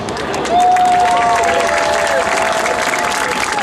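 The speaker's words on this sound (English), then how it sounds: "please give him a warm round of applause" Sustained applause from a crowd at a military open house performance by the US Army Golden Knights, steady and full, with a faint tonal whine running underneath.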